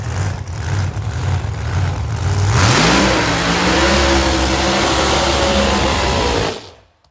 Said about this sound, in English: Good looking burnout.